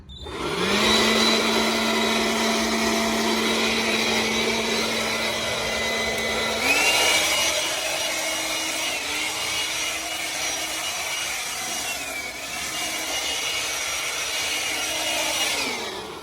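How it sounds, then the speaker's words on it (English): A Ryobi ONE+ 18V cordless workshop blower blasts dirt out of a van, running as a loud, steady whooshing roar with a whining motor tone that shifts pitch slightly as the nozzle moves, continuous for the whole stretch. "I've got one word for this Ryobi ONE Plus 18 volt workshop blower, and that is amazing."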